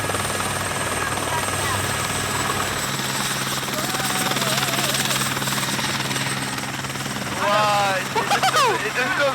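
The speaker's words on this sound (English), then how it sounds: "the pilot doesn't want to shut the helicopter down" A helicopter sits running on the ground in very strong winds after landing, its rotor and engine roaring continuously, with excited voices breaking out over it near the end.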